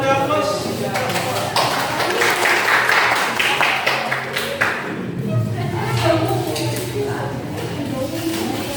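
Audience applause in a classroom session, a sustained wash of clapping that swells and fades over several seconds, with voices talking through it.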